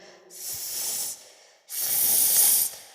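A snake hisses twice in long, loud, breathy bursts close by, with a short silent gap between them.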